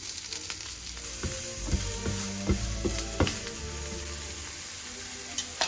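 Onion and garlic frying in a pan with asafoetida and a little turmeric, making a close, steady sizzle broken by several sharp clinks and scrapes of stirring.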